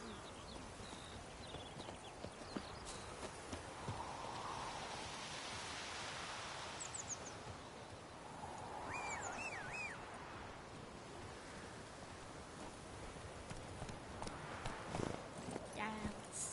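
Roach, the horse in The Witcher 3, gallops with a fast, continuous clip-clop of hooves over a noisy outdoor bed, while voices speak intermittently above it.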